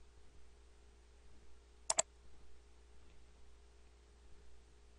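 Computer mouse clicking while working in Revit, a quick double click in a quiet room, faint and close, with no voice.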